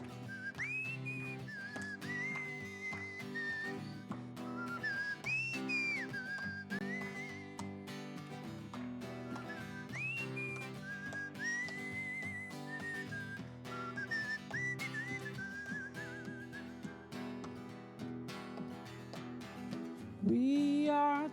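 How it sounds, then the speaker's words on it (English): A person whistles a melodic tune, sliding between sustained notes over a steady musical backing, loud and continuous throughout. "Whistle for us."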